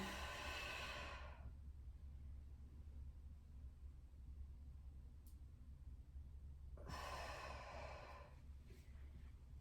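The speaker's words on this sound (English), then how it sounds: "Big breath in, fill the belly. Exhale, soften." A deep yoga breath, drawn in and released slowly, comes as a loud breathy rush at the start and another near the end, with quiet stillness between and no talking.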